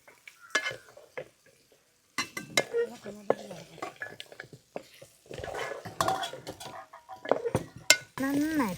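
Fish is stirred into boiling vinegar masala for Kerala-style fish pickle: intermittent spoon scrapes and clanks against the pot with soft sizzling, in irregular bursts separated by quiet gaps.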